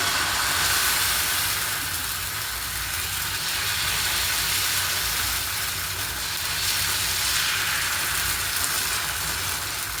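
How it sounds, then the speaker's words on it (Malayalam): A maida and coconut dosa roasts on an oiled griddle, giving a steady, even hiss that stays close and constant throughout. "ദോശം കല്ലിൽ എണ്ണ വെച്ച് കൊടുത്തിട്ടുണ്ട് ഇപ്പൊ ചുടല് ചെയ്യാനായിട്ടുണ്ട്"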